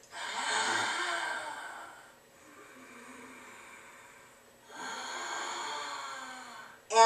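Strong, forceful breathing during a yoga exercise: two long, loud breaths of about two seconds each, separated by a quieter breath, with a sharp sniff at the very end and no talking.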